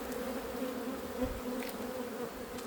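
Honeybees hum around a hive during a spring inspection, a steady close buzz with no breaks.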